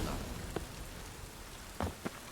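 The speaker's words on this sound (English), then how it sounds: "Rain" Steady rain falls in The Witcher 3: Wild Hunt, a constant hiss of drops on the ground with a few brief, louder splashes or thuds near the end.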